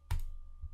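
A single sharp, close computer mouse click in a quiet room, followed by a faint softer click a moment later.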